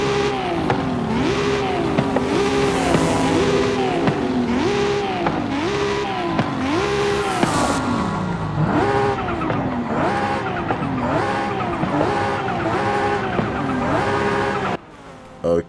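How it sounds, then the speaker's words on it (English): A Toyota Supra's 2JZ engine in Forza Horizon 5 revs hard through repeated gear changes, rising and dropping in pitch, with tires squealing at times. "Let's listen to how the legendary 2JZ sounds in here."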